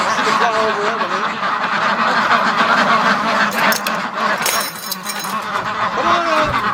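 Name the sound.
Muscovy ducks calling in the pen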